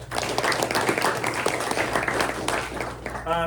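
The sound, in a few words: luncheon audience applause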